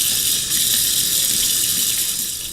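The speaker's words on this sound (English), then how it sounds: "Wash my hands again." Hands are washed under a kitchen tap running at full flow, a loud, steady hiss and splash of water that carries on without a break, close and with no talking.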